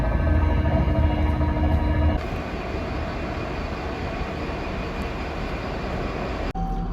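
A train runs with a steady, loud rumble of wheels on rails, the tone shifting partway through as the carriage noise changes, with a brief clunk near the end.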